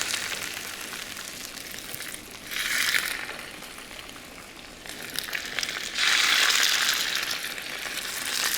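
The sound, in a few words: salmon searing skin side down in hot vegetable oil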